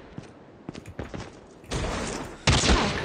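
Bursts of rapid gunfire in Call of Duty Mobile, sparse shots at first, then sustained loud volleys, with no talking.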